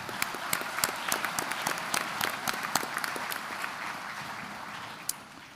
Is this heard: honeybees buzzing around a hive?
no